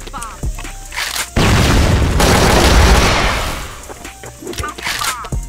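A shooting video game erupts in a heavy burst of booming gunfire, a dense sustained blast lasting a few seconds that is framed by sharper single shots and clatter before and after.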